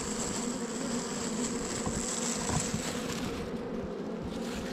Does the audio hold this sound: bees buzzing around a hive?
yes